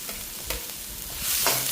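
Onion and green chili stir-fry in a pan with a close, steady sizzle, marked by a few scraping stirs and a louder burst of frying toward the end.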